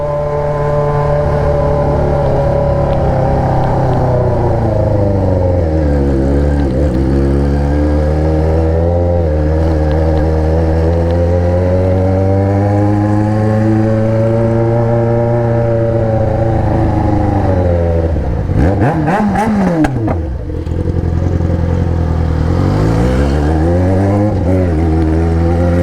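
A Jaguar XJ6 fitted with an Atalla exhaust revs loudly on a night drive, its deep engine note rising and falling through several long throttle swells with a sharp burst near the end, heard close and alone.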